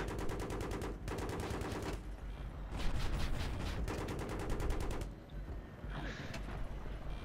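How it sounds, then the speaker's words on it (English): Bursts of rapid machine-gun fire in the Battlefield 3 shooter come in repeated chattering volleys separated by short pauses, loud and close, with a faint higher sound late on and no talk. "It's just the fact that we're constantly being shot."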